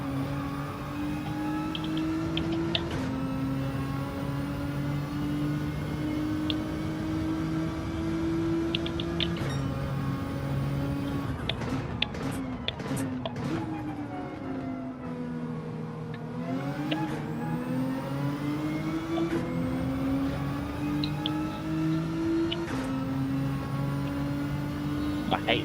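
Race car engine in Gran Turismo 7 at the Nürburgring Nordschleife, held at a steady drone that drops and climbs through several gear shifts around a hairpin, with a deep dip mid-run before revving back up, loud and continuous.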